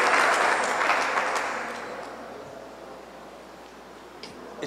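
A congregation applauding at a pastors' and leaders' church conference in Turbo, Colombia, with loud clapping at first that gradually thins and fades to a faint murmur.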